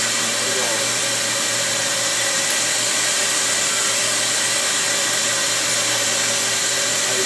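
A case-prep machine trimming .223 brass cartridge cases runs loudly, giving a steady, unbroken mechanical whirring drone from start to finish with no talking over it.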